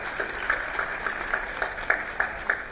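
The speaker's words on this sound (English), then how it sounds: "A big round of applause." Plenary session audience gives a sparse, fairly faint round of applause, with individual claps landing in an uneven rhythm against a low room hum.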